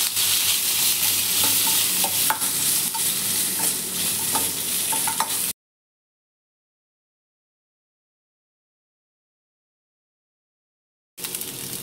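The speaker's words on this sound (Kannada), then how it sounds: "ಕರಿಬೇವು, ಈರುಳ್ಳಿ, ಇಷ್ಟನ್ನು ಫ್ರೈ ಮಾಡ್ಕೊತಾ ಇದ್ದೀನಿ." Curry leaves and onion, with garlic, sizzle and crackle as they fry in a pan for chana masala gravy, a steady close hiss with stirring clicks for about five seconds, then silence before the sizzle returns briefly.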